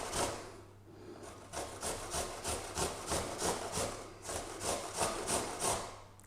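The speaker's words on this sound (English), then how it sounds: "And we're grating the apple always towards the core of the apple" A Granny Smith apple is grated toward the core, giving a steady rhythmic rasping of strokes, close and moderately loud, with no voices.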